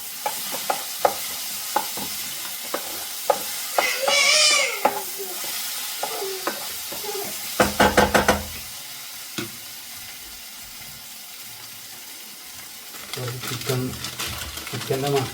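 Chicken liver masala being stirred in a frying pan in Kerala style, with a spoon scraping and clattering through the thick sizzling masala in bursts, sizzle and frying crackle continuing throughout, and a voice talking in between.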